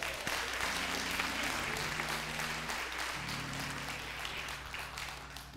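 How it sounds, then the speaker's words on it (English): Church congregation clapping hands in praise during a worship service, a steady wash of applause over a low sustained organ-like tone, moderately distant. "Let's give God a hand clap of praise"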